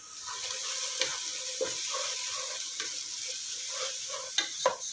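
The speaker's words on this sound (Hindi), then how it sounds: "वन टेबल स्पून लहसुन अदरक पेस्ट डालकर 1 मिनट फ्राई करेंगे।" Garlic ginger paste sizzles in hot oil in a pan, a continuous hiss broken by occasional clicks and scrapes of stirring, heard close with no talking.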